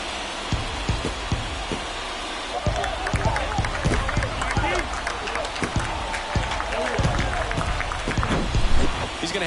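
Baseball stadium crowd at a Yankees-Twins playoff game in Minnesota roaring and clapping after a home run, a loud continuous wash of cheering with scattered sharp claps that swells toward the end.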